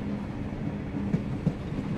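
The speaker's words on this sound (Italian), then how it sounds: "Il treno sta rallentando" A train rolls along steadily in a scene from The Lion's Song, with a continuous low rumble of wheels and carriages and a couple of soft knocks, and no voices.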